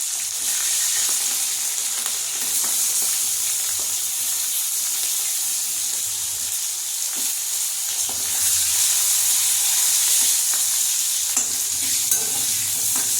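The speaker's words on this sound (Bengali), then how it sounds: "বেগুনটাও এর মধ্যে অল্প ভাজা হয়ে যাবে, একবারে রান্নাটা করে নেব।" Eggplant and hilsa fish sizzle steadily and loudly in a hot pan with cumin and green chillies throughout, with occasional clicks and scrapes of stirring.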